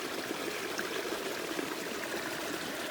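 A small creek runs through an aspen forest in Grand Mesa National Forest, its steady broadband rush and trickle continuous and fairly close, with no voices over it.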